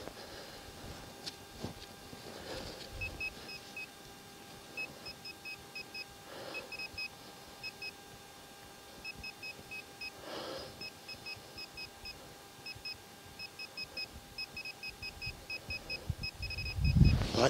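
Metal detector signal ringing over a buried metal target in a field, a repeated high electronic tone pulsing in short bursts across the clip, steady and fairly faint against outdoor wind noise.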